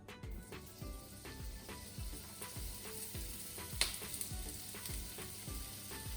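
Mushrooms, including oyster, wild and enoki varieties, fry in oil with a soft, close sizzle and a constant run of small crackles and pops, plus one brief sharper clatter, with no talking.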